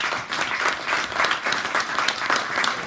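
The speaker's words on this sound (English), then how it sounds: "You guys aren't clapping for me like that tonight." Live audience clapping at a comedy-and-politics stage show, loud and rhythmic with distinct hand strikes pulsing together, sustained at a steady level throughout.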